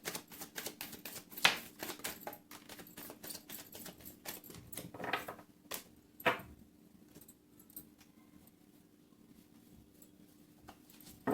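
Tarot cards are shuffled by hand in quick bursts of crisp riffling and slapping, close and fairly quiet, with brief pauses between flurries and no talk.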